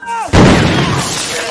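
A grenade thrown by Nazi soldiers bursts in a World War II film: a sudden, loud broadband blast cuts in after a quiet tonal opening and rolls into a sustained, rumbling roar with debris-like crackle.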